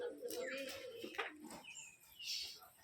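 Giribaj pigeons at a colour-matched pigeon farm in Rajshahi coo softly in a few short, faint bursts, with light chirps mixed in, fairly quiet overall.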